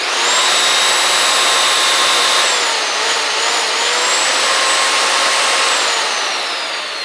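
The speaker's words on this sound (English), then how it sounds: "will it still run our 15 amp saw? This is the test I hate the most because it's very loud." A 15-amp electric saw runs off an OUPES Guardian 6000 portable power generator. It makes a loud, steady, high-pitched whine that holds for several seconds with slight shifts in pitch and no voices.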